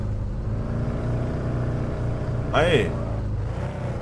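A tuned car engine fitted with nitro and turbo in the video game Car For Sale Simulator 2023, a steady low idling hum with a faint drifting pitch, and a brief voice exclaiming over it midway.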